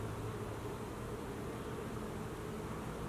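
Honey bees buzz around an open hive during a late-season inspection, a steady dense drone of many wings, continuous and fairly faint with no voices.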